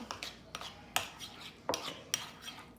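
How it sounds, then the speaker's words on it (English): Spoon taps and scrapes in a bowl of deviled egg filling made with egg yolk, mayo, salt, pepper and sweet pickle juice, quiet rhythmic clinks spaced about every half second, close and fairly faint. "Make sure it's very well stirred up."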